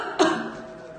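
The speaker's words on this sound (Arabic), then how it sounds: "تعمد الطبيب تصوير سعال المريضة حتى يتم تمييز سعال المريض المصاب بفيروس كورونا عن السعال العادي" A single cough from a female patient with coronavirus, a sharp close burst followed by a short raspy tail, heard alone in a quiet room.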